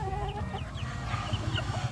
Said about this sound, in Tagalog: Ang manok, ang daming manok ni Sky.